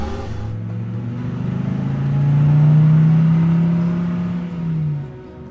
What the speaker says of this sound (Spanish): El motor rugió de nuevo y el vehículo volvió a ponerse en marcha